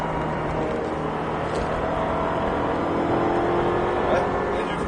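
Ferrari 488 GTB on the Circuit de Folembray during a driving course, its engine a steady continuous drone with a sustained tone rising slightly, heard from inside or near the car under a coach's spoken instructions.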